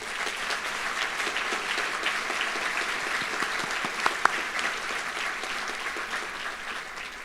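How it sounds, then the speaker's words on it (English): A graduation ceremony crowd applauding faculty staff, with a steady wash of clapping throughout and a couple of sharper, closer claps standing out near the middle. "Can I please have a round of applause for our fine faculty staff here?"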